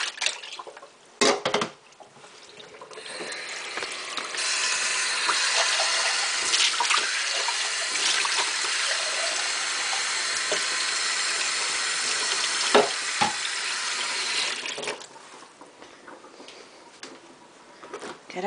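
A kitchen tap runs steadily for about ten seconds, a close, hissing gush of fresh water filling a container, with a few clicks and knocks before it starts and after it stops.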